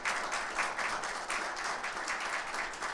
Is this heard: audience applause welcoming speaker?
yes